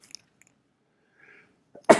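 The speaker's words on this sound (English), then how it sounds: "Time for me to sneeze." One sharp sneeze bursts out at the very end, loud and close, after near silence with only faint scattered noises beforehand.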